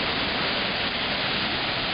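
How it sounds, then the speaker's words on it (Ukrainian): Düden waterfall in Turkey pours in a dense, unbroken roar of falling water, loud and steady throughout with no voices. "Звідси відкривається ще один із прекрасних видів на водоспад."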